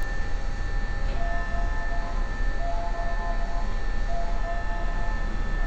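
A Nankai Koya Line train at a station platform with platform doors, heard from inside as a low steady rumble with faint tonal whine and hum, fairly quiet and even throughout, without talk.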